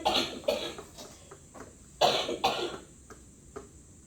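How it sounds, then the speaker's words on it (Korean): A person coughs repeatedly in short, harsh bursts, several close together with a pause in the middle, close and fairly loud with no speech. "이 기침 소리를"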